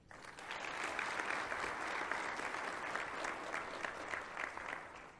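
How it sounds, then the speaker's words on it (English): Steady applause from an audience honoring award winners at a TWAS general meeting in Rwanda, a dense, even wash of many hands clapping that holds at a constant level throughout with no voices. "join me again to offer a round of applause for the award winners of today"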